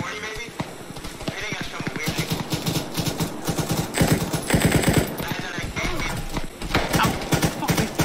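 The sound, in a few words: gunfire in the video game Arma 3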